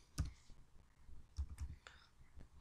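Scattered, quiet clicks and taps of typing on a computer keyboard come in short irregular bursts, close by.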